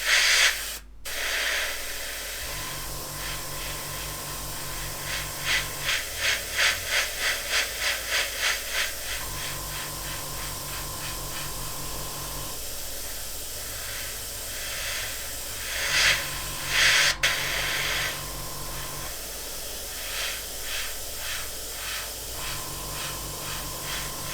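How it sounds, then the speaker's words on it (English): Green lacquer paint sprayed from an airbrush across sanded areas of a test surface: a steady hiss in several bursts, with a compressor thumping rhythmically underneath, close and loud, with no talk. "I'm going to spray across both of those sanded areas."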